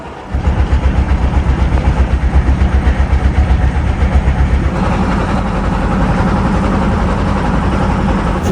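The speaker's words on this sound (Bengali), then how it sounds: "আমাদের ট্রলার ছেড়ে দিল" Trawler boat engine on Kaptai Lake in Rangamati, a loud, close diesel chugging with a fast, even pulse that then smooths into a steady roar as the boat gets under way.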